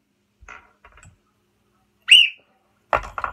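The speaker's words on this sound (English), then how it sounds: "Whistle." A small toy whistle from a novelty item box gives one short, shrill blast at close range, set between quieter handling clicks and rustles.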